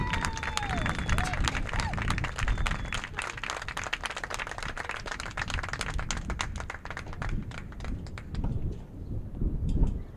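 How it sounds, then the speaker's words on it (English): Crowd applause honoring the 2022 6A state volleyball champions at a Dripping Springs baseball game, dense sustained clapping for about ten seconds, fairly close and loud with some cheering mixed in. "Please give a round of applause for your 2022 6A state volleyball champions."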